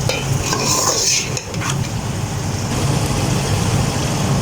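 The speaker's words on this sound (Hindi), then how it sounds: "इसमें अब मैं अपने टमाटर मिर्च डाल देती हूँ और इसमें अब अपने मसाले ऐड करते हैं" Chicken curry with bottle gourd, tomatoes and chillies sizzles loudly in a pan while a spoon stirs and scrapes through it, a continuous close frying hiss with clattering strokes.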